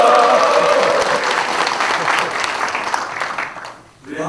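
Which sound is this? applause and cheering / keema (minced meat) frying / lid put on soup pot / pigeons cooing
applause and cheering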